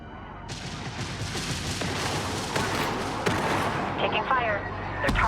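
Space combat weapons fire in the strategy game Homeworld 3, a dense barrage of rapid shots and booming impacts that continues steadily, with radio chatter from voices mixed in.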